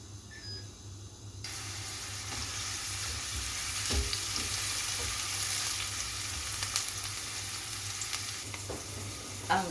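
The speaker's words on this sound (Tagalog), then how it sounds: "Lagay na natin ang ating onion." Onion sizzles and crackles in a hot pan, a dense, steady frying hiss with occasional stirring clatter, loud and close.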